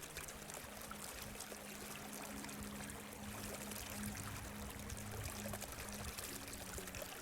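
River water flows steadily outdoors during a calm nature yoga session, a continuous even rush and trickle heard close by with no voices.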